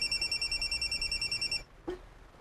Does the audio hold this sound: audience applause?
no